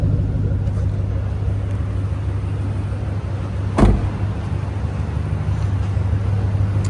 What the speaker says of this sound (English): Love the exhaust note.